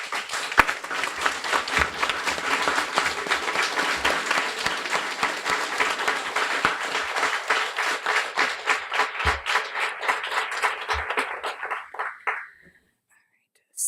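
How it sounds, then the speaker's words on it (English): Audience at a Guiding Eyes for the Blind guide dog graduation applauds its volunteer puppy raisers: dense, sustained clapping for about twelve seconds that thins into scattered claps and then stops. "I'd like to give everybody a well-deserved round of applause."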